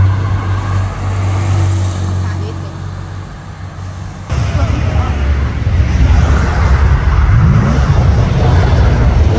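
An old Porsche drives past on a city street, its engine a steady low drone that swells abruptly into louder, rougher road and exhaust noise midway through, with faint indistinct voices in the background.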